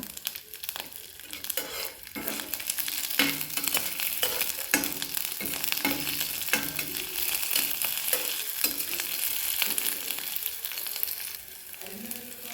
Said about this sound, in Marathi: पॅनमध्ये तेल घातलेलं आहे त्यामध्ये मिरच्या घालून घेऊ लसूण कढीपत्ता